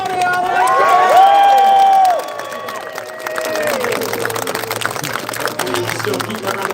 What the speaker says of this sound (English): Still keep that round of applause going for Andy.